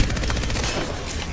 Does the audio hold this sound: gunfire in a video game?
yes